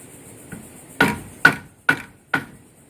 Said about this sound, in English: after hitting the shoe with a hammer, it doesn't damage the rubber